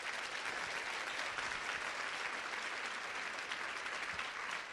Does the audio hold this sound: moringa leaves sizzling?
no